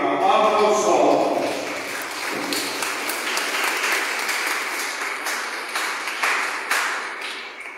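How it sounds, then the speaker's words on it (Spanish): Wedding guests applaud the couple at a November celebration in San Juan Tetelcingo, with dense clapping that starts loud, stays steady and gradually thins out, and voices mixed in. "Aplauso para la pareja."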